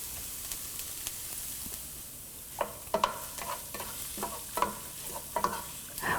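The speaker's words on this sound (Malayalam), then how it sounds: "ഈ സെയിം സ്കില്ലറ്റിലോട്ട് നമ്മൾ കട്ട് ചെയ്ത് വെച്ചിരിക്കുന്ന സവോളയും ആവശ്യത്തിന് ഉപ്പും ഇട്ട് വഴറ്റുക." Chopped onions with salt sizzle quietly in a skillet as a utensil stirs and scrapes through them in a run of soft, irregular strokes, with no talking.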